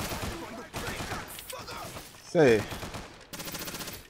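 Rapid bursts of automatic gunfire in the video game Scarface: The World Is Yours crackle in repeated volleys over game music and effects, with someone briefly talking in Portuguese.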